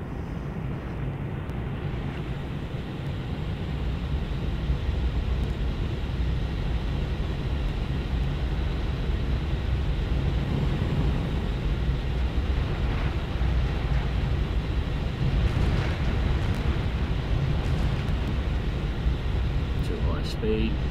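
Jet aircraft engine in a British jets arcade combat flight game, a continuous heavy roaring rumble that stays steady as the plane climbs, with someone talking over it throughout.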